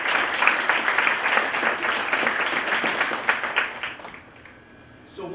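An audience at an academic awards breakfast applauds its student athletes. The dense, loud clapping holds steady for about four seconds, then thins and fades, and a voice returns briefly at the end.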